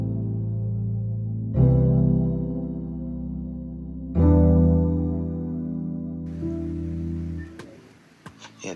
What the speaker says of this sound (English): I'm actually using a Romance piano from Triton, playing these chords.